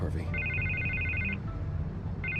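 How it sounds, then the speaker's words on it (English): A telephone rings in a Batman video game with a repeated electronic trill, two bursts close by, while a voice talks under it. "I can't get the phone to stop ringing."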